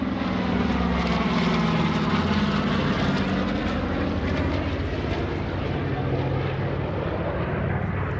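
Pratt & Whitney R1830 Twin Wasp radial engines, 1,200 horsepower each, on a twin-engine warbird at the 2021 Greenwood Lake airshow roar steadily in a loud sustained propeller drone, with a commentator talking over it.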